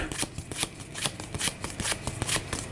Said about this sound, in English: So, I'll shuffle these up.